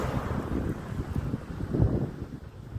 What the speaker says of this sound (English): it's a beautiful day, a hot day. It's windy as well.